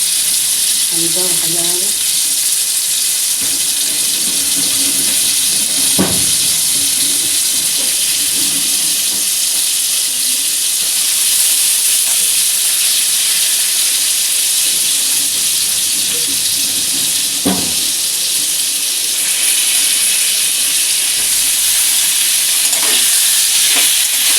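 Potatoes fry in a hot pan with a loud, continuous sizzling hiss, broken now and then by the scrape and knock of a spoon stirring them.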